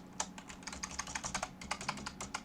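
Fast, uneven typing on a computer keyboard while JavaScript code is written, the key clicks close and crisp in quick bursts with a brief pause partway through.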